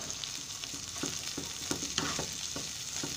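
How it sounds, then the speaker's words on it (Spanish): Chiles cuaresmeños frying in a pan with onion and garlic for a beef steak dish, giving a steady crackling sizzle with soft, evenly spaced stirring knocks. "y que se empiecen a freír, que se empiecen a cocer"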